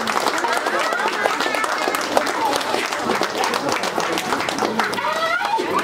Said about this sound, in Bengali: জোরে হাততালি হবে